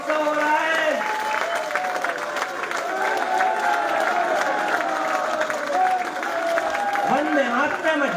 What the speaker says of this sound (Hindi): 2 मिनट तक गड़गड़ाती हुई तालियां राम जी के नाम पर।